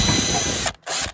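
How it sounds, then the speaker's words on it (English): Power drill with a left-hand drill bit whirring at a steady loud whine, stopping briefly, then spinning up again in a second short burst before cutting off. "We'll just whip through with the drill again just to be sure."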